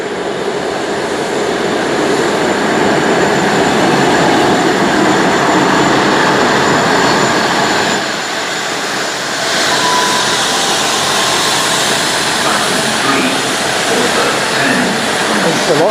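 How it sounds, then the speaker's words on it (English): A South Western Railway class 159 diesel unit, 159002, rolls into Exeter St David's station with a loud, steady rumble and rail noise lasting throughout, easing slightly midway before continuing. "arriving in now is the 1025 Southwest train service to London Waterloo"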